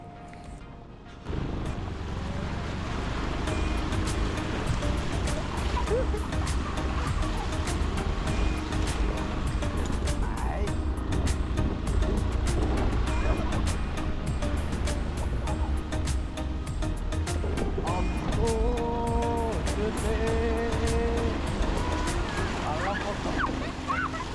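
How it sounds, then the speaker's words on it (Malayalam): Car driving through water along narrow village lanes, a steady loud rushing and sloshing wash over low road rumble and wind buffeting for most of the stretch, with brief voices in the background. "വണ്ടി വെള്ളത്തിൽ കൂടെ ഒക്കെ പോകണത് ഭയങ്കര ഇഷ്ടമാണ്"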